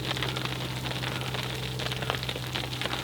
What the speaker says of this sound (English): A freaking hailstorm going on.